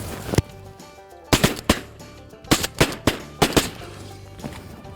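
A volley of loud, sharp shotgun blasts at geese in North Dakota, several in quick clusters with short gaps between, booming close by and echoing outdoors.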